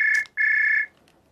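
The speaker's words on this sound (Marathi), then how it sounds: "साहेब फोन. हा फोन." A phone rings with two close, bright electronic trills, loud and alone, before falling quiet.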